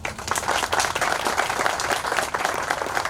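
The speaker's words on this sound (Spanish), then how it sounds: "démosle un muy fuerte aplauso a esta acción que se está emprendiendo" Audience applause at a university event in Tijuana, a steady wash of many hands clapping at close range, sustained and fairly loud for the whole stretch with no voices rising above it.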